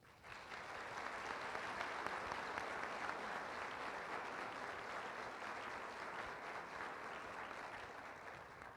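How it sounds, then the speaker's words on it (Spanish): Audience applause for a panel on the legal approach to mental health: a sustained, even wash of many hands clapping, rising quickly and holding steady at a soft, distant level. "Les pido por favor un respetuoso aplauso."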